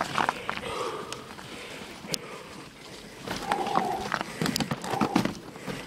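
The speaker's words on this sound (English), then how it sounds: "I rode over hollow ground, but it didn't fail on me that time" A bicycle rolling over hollow ground outdoors among trees, with irregular hollow thumps, knocks and rattles over a rough rumble and a brief murmur of voice.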